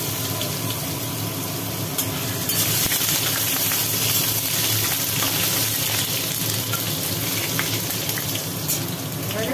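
Potatoes frying in a pan with whole cumin seeds, a steady dense sizzle and crackle that holds close and loud throughout, with no talking over it.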